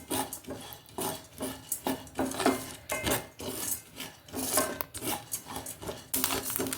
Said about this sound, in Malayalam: അരിയൊക്കെ നന്നായിട്ടിങ്ങനെ പൊരിഞ്ഞ് പൊരിഞ്ഞ് വരുന്നൊരു ശബ്ദം കേൾക്കണുണ്ടോ